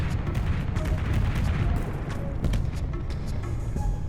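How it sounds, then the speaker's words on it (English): Explosions and gunfire in the space combat video game SpaceBourne 2 form a continuous dense barrage of booms and rapid shots, loud and rumbling throughout with no break. "Things are exploding."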